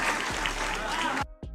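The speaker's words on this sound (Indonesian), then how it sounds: "Tepuk tangan sekali lagi buat Antonius." Audience applause for Antonius at a public event with Anies, a dense burst of crowd clapping that cuts off abruptly, then a brief trailing clap.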